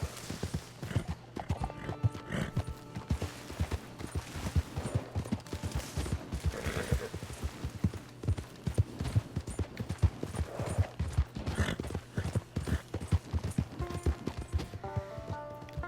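Steady clip-clop of horse hooves at a gallop in the Red Dead Online video game, a continuous close rhythmic pounding with an occasional whinny and distant gunfire bursts in the background.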